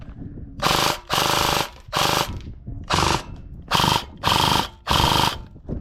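A Cybergun M249 airsoft gun fires at a mannequin about 20 feet away in six rapid full-auto bursts, each a loud buzzing rattle lasting about half a second with short pauses between.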